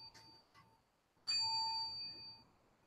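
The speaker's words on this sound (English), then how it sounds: "So you hit the gong 3 times." A gong struck at the close of a Zen meditation session: a faint first strike and a quieter second, then a loud, bright third stroke with a long ringing decay, no voices.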